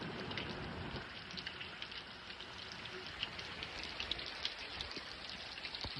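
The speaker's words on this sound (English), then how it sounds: "And it started to rain." Steady rain falls and patters on surfaces, a dense continuous hiss with scattered close drops ticking through it, no voices.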